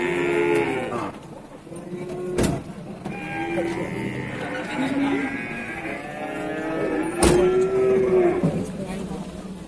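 Simmental and Limousin calves at the Randudongkal cattle market moo repeatedly in drawn-out calls close by, over a constant crowd murmur, with people talking and two sharp knocks.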